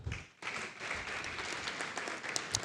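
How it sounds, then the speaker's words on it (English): Applause from a crowd, steady and moderately loud, with a brief dip near the start before the clapping continues evenly. "If you know that you learned something, please clap."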